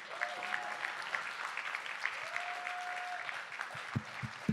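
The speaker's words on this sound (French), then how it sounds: "j'aimerais que vous applaudissiez bien fort, Antonin Gilbert" An audience at a big band concert applauds steadily, a dense sustained clapping with a few brief whistles over it, fading slightly near the end.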